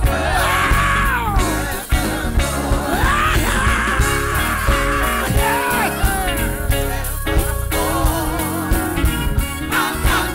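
A church congregation yells, screams and whoops loudly and continuously over music, with a sustained crowd roar throughout.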